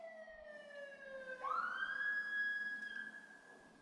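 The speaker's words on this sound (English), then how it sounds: "I'm going to stop for a moment until the siren goes by." A distant emergency siren in New York wails, its tone sliding down then jumping up into a steady high wail, faint city hum underneath, no talking.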